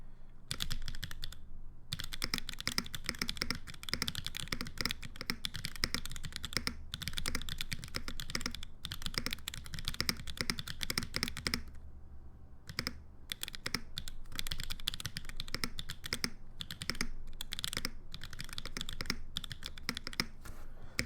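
Rapid, steady clacking of a Mode Envoy mechanical keyboard being typed on, close and crisp, with a couple of brief pauses between bursts of keystrokes.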